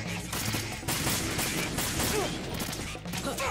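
Rapid gunfire in Metal Gear Solid 2 rattles continuously in a dense burst for a few seconds, fairly quiet and steady, with no voices.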